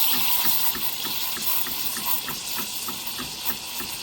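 Espresso machine steam wand hissing and gurgling as it steams milk, a steady broadband rush with a faint rhythmic pulsing, close and fairly loud throughout with no talking.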